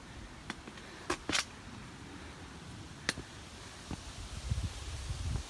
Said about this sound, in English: I know it's getting windy up here.